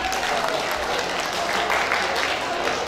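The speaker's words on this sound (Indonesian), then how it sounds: "Empat orang cuma yang tepuk tangan, ya kan?" Applause at an evening awards ceremony fills a hall as a steady, dense patter of clapping, with a voice speaking over it the whole time.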